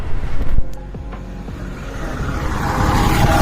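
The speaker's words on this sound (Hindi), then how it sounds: "इतना जरा गाड़ी आ रहा है, मैं पार कैसे करेगा सर?" Vehicles rumble past on a village road, one passing close at the start, then a low steady traffic drone that builds again toward the end.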